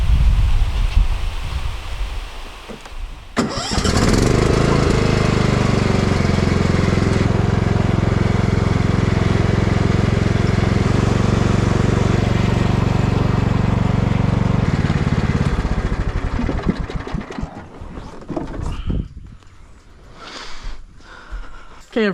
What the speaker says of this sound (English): Can't forget the old chainsaw.